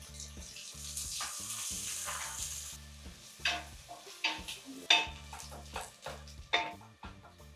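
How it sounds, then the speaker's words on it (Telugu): Sliced onions hit hot oil with fried whole spices such as cardamom and bay leaf for mushroom biryani, giving a steady close sizzle that gives way to repeated stirring scrapes and clinks of a spoon against the pan. "మసాలాస్ ఫ్రై అయిన వెంటనే ఇందులో ఉల్లిపాయలు వేసేద్దాం."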